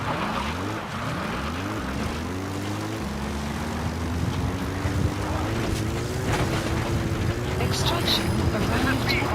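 Support helicopter from Metal Gear Solid V arriving, a steady rotor and engine drone that rises and holds loud throughout, with in-game radio voices speaking over it.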